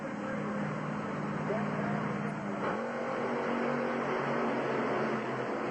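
Loud roaring monster truck engines thunder steadily as they launch off the line in a race in Atlanta, Georgia, with a rising rev surge midway, under a continuous noisy crowd-like din.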